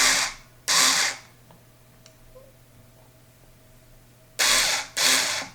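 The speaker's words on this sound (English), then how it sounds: "I'll just put the screwdriver in our bridge here. And just a couple of turns," A screwdriver turning the bridge screws on a Chinese Les Paul copy guitar gives four loud, broadband bursts of friction and grinding, two near the start and two near the end, with a quiet stretch and a few faint ticks between them.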